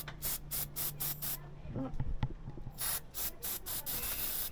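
Repeated bursts of anti-rust spray aimed at a tight brake disc screw during a disc change, several short hissing blasts on either side of a brief clatter of handling, fairly close and clear.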